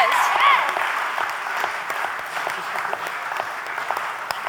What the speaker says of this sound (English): So let's give a round of applause to the bartenders.